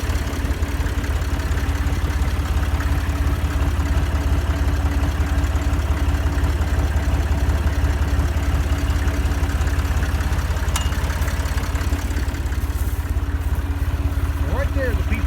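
A hay-baling tractor engine runs at a steady idle with a loud, rough low-pitched chug that barely changes, and a brief clank near the end.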